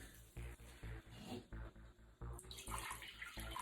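Water pours into a pot to make syrup for rasgulla, a close, gushing splash that comes in short bursts separated by brief pauses, then runs more steadily toward the end.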